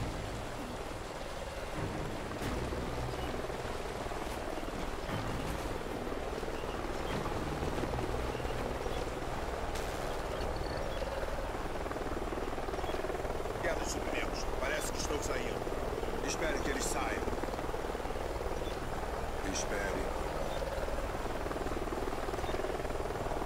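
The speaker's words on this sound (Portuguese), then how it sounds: "Parece um helicóptero logo adiante. Estou ouvindo." Helicopter ahead in the Call of Duty Ghosts video game, a steady distant rotor drone mixed with rain-like hiss, running throughout under game voices speaking.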